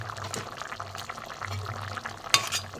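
A thin rohu fish curry with taro and potatoes bubbles and simmers softly in a pot, a steady low boiling hiss with a brief clink of a utensil near the end.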